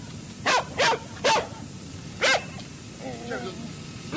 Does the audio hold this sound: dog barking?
yes